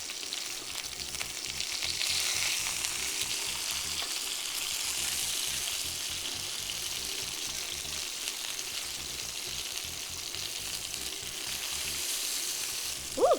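Salmon fillets in a teriyaki preparation pan-fry after being flipped, giving a steady, moderately loud sizzle with faint crackle that holds throughout, ending in a short louder clatter.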